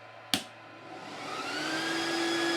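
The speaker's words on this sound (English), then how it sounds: "The main fans now start up." BSA portable PCP air compressor switching on: a sharp click, then its main fans spin up into a steady whooshing hum with a rising whine, growing louder and holding close by.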